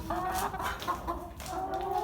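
A young rooster clucks in short, wavering calls, fairly close, with a soft farmyard background and no talking.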